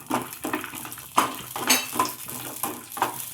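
Peanuts sprinkled with black salt are stirred in a hot kadai, making rhythmic clattering scrapes about twice a second over a light, dry sizzle.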